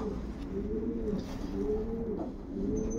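A breeding pigeon coos in soft, throaty, repeated rolling phrases, close by and steady over a faint background hum.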